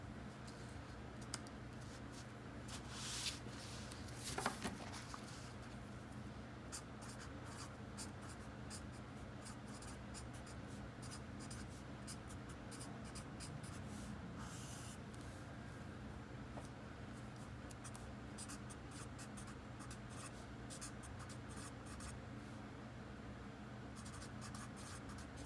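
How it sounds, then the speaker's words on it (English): Someone writes by hand on a surface during a lesson on DNA replication, making faint, continuous pen or marker scratching strokes in quick, irregular bursts, close and quiet, with a louder scrape early on. "So I'm going to write that."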